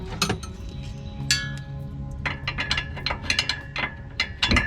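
A ratchet wrench clicks in short bursts of rapid pawl ticks, close and distinct, separated by pauses and small metallic clinks as the tool is worked by feel.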